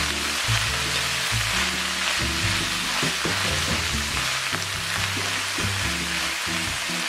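Oil tofu frying in a pan with mung bean sprouts, a continuous close sizzle broken by the irregular scrape and clatter of stirring.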